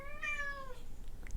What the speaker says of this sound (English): Even my cat right now is meowing to go outside.